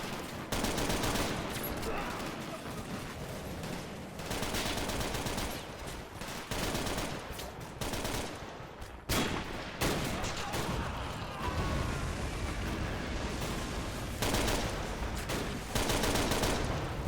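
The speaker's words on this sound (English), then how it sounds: "Hip firing that machine gun is not going to do him much good." Dense machine gun fire and other gunfire fill a World War II style battle between Soviet defenders and German forces with tanks in a strategy game. The bursts are loud and nearly continuous, with rapid rattling that carries on almost without pause.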